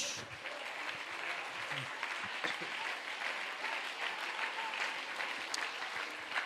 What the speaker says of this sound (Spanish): Hermano, aplauda a Dios.